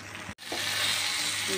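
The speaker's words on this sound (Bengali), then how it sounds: "ভাজা ভাজা হয়ে আসলে একটু আস্ত জিরা দিয়ে দিয়েছি।" Brief burst of sizzling as whole cumin seeds hit hot oil, a sudden hiss after a short gap, then steady frying crackle.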